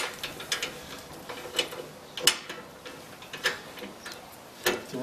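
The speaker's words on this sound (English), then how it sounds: "Get your wrench in, get this first bolt lined up, get it in there, get it started a little bit" A wrench ratchets a bolt into place while a KewlMetal part is installed, giving a series of quiet, irregular clicking ticks spread across the clip, with no talking.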